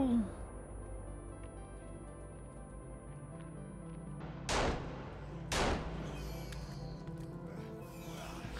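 Two grenade blasts in the survival game Sons of the Forest, each a sharp, loud burst about a second apart over a steady, rumbling game background with no speech.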